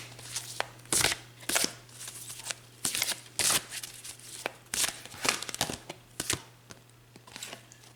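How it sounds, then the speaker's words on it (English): Playing cards are shuffled in bursts of crisp riffling and slapping, with irregular pauses between shuffles, close and fairly soft. "I'm going to be shuffling the cards"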